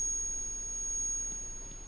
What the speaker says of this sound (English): I could really do without the ringing in my ears.